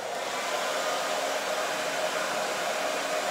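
A hair dryer blows steadily to dry paint on a wood paddle, a loud, constant close-up whoosh and whine that runs unbroken for the whole stretch with no voices.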